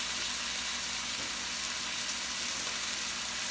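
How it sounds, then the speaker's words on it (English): Pork sautéing in a pan with a spoonful of fish sauce, giving a steady, even hiss and sizzle that runs on without break and without anyone talking. "will saute our pork for a few minutes until it becomes brownish"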